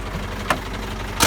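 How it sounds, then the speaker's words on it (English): A car engine idles steadily after starting during a driving-test lights check, a low even rumble with two short sharp clicks or knocks over it. "And let's start the engine."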